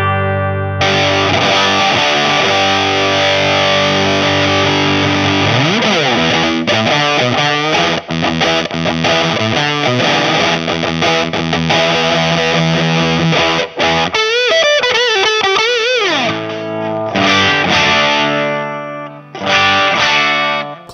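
A Gibson Les Paul with PAF-style pickups plays through a Maxon Wind Fuzz pedal, a continuous stream of fuzzy, distorted chords and notes with slides and bends, loud and close with no talk.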